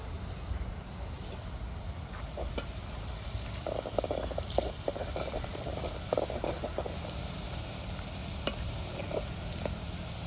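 Onion frying in ghee in a pan as turmeric is added, heard as a steady low sizzle with scattered light scraping and stirring clicks, no talk.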